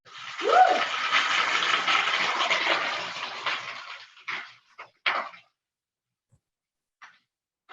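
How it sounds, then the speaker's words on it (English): Hot liquid hitting a greasy pan bursts into a loud, steady sizzle that holds for about four seconds, then breaks into a few short spits and pops before falling quiet. "Hot liquid and grease on a pan, that's what happens."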